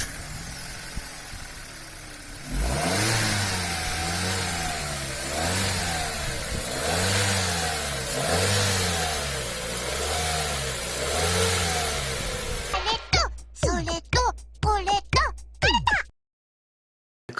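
A car's 1.3-liter petrol engine revs repeatedly in rising and falling sweeps from idle, loud and close. Sharp clicks and rattles follow near the end before it cuts out.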